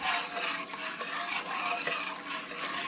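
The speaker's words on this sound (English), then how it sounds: "we're going to let it melt and stirring" Butter melting in a pot is stirred continuously, giving a soft, steady scraping and rubbing with faint sizzle, close and unbroken, with no voices.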